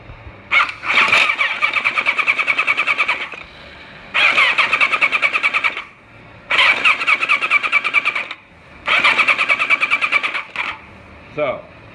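The starter turns over the 1986 Kawasaki ZX1000 motorcycle engine after a starter clutch repair, in four separate loud cranking bursts of about two seconds each with a rapid chugging rhythm and short pauses between them.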